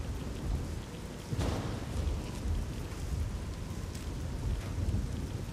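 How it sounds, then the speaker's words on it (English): Radiation rain in the video game Fallout 3 hisses steadily with a low rumble underneath and a brief thunder-like swell early on, a constant dense wash of rainfall. "radiation rain"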